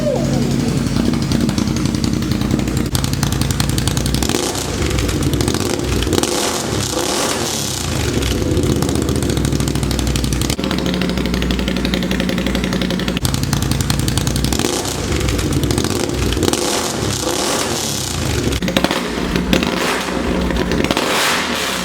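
Can-Am Outlander ATV fitted with a new RJWC exhaust fires up and revs, giving a loud, continuous deep engine roar with repeated throttle swells and a couple of brief dips over about twenty seconds.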